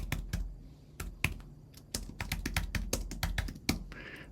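Keys clatter in a steady, irregular run of sharp clicks on a computer keyboard while business registration details such as an address and city are entered, close and fairly clear, with no talking.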